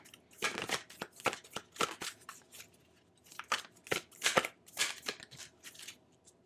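Tarot cards being shuffled and handled up close, a string of quick papery riffles and flicks in bursts with short pauses between, fairly soft.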